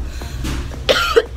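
A person with a cold coughs twice in quick succession, close and fairly loud, with a short throat-clearing texture and no speech.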